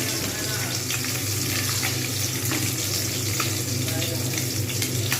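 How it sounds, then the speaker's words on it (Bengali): Pabda fish frying in a hot pan of oil, a steady dense sizzle with faint crackles running throughout, close and continuous with no talking. "এক পিট হয়ে গেছে আর এক পিট আরও একটু ভেজে নেব"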